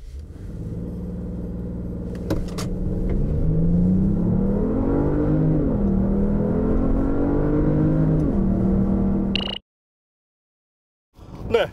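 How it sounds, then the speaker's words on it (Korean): Genesis GV80 3.5T AWD SUV launching hard from a standstill: a loud, sustained engine roar rising through the revs with audible shift dips, then cutting abruptly to silence near the end. "여기서 마지막으로 발진 가속 성능을 한번 볼까요?"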